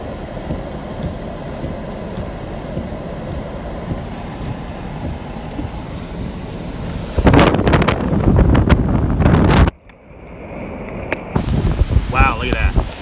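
Strong wind roars steadily close to the microphone near a tornado crossing open fields in Illinois, swelling into heavier buffeting gusts before dropping off abruptly, then returning with a person talking over it.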